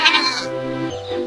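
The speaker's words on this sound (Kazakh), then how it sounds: "Мен ешкімін. Менің төлім лақ." A goat gives a single short, loud bleat, close by, with a wavering tone that slides lower toward the end.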